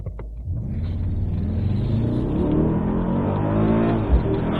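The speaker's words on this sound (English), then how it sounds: "It opens up and you can hear the exhaust pipe" A 2024 Mercedes GLS 63 AMG with active exhaust open builds a deep, loud rumbling rev that swells steadily, heard close from inside or beside the SUV.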